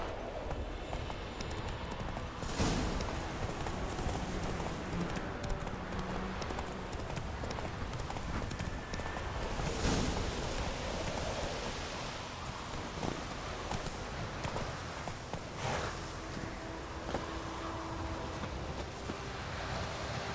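Horse hooves clop steadily in a rhythmic gallop across ground in The Witcher video game, continuous and moderately loud beneath faint wind-like ambience, no talk.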